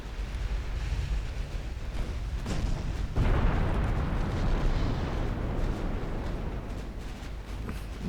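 Naval gunfire striking a warship in Ultimate Admiral Dreadnoughts: a continuous roar of distant explosions and rumbling impacts, with a couple of sharper hits standing out midway.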